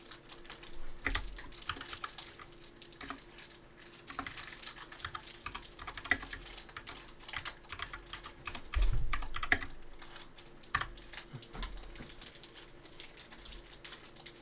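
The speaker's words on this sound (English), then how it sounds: "You have great typing ability." Rapid keystrokes patter on a computer keyboard in bursts, fairly faint and close, with uneven rhythm and brief pauses between runs of typing.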